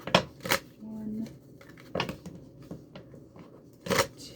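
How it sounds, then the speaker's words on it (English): Tarot cards are shuffled in short, crisp bursts of riffling and slapping, close and fairly quiet, with pauses between them. "I'm going to shuffle this because the intuitive shuffle's being sticky."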